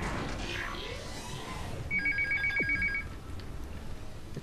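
A telephone rings in a short electronic trill lasting about a second, clear over a background of game sounds and room noise, with no talk.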